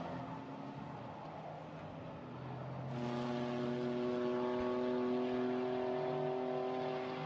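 A GT4 race car accelerates at the Spa circuit toward Blanchimont, engine note climbing steadily then jumping louder and brighter as it holds a high, sustained drone, heard without commentary.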